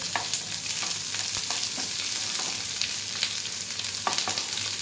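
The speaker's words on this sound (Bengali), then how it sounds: "পেঁয়াজটা একটু লাল করে ভাজা হবে" Onions sizzle steadily in a hot pan, with occasional scraping and stirring knocks and no talking.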